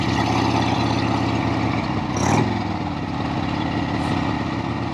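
A Harley-Davidson Ironhead Sportster with an old 4-speed gearbox rumbles steadily while being ridden, its loud, continuous engine drone rising briefly mid-way.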